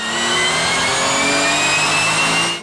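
Honda and BMW racing motorcycle engines scream at high revs on the Mettet circuit, loud and close. The sustained, tonal howl holds steady before cutting off abruptly at the end.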